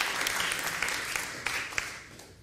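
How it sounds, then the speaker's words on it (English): A church congregation applauds in a steady, fairly close round of clapping with a few sharp individual claps standing out, gradually fading toward the end. "Sorry, I was talking over clapping."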